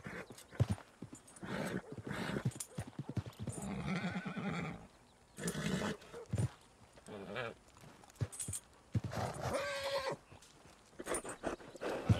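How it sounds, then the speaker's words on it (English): Horse neighs and hoof clip-clops in a Yellowstone roleplay video game, the whinnies rising in bursts over steady hoofbeats, fairly close and moderately loud, with a brief muffled voice here and there. "You calm down, horse."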